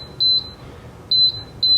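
Three sharp electronic beeps from the control panel of an electric fireplace in a 2022 Forest River XLR Nitro 35DK5 toy hauler RV, each short and clear, with two close together near the end over quiet room noise.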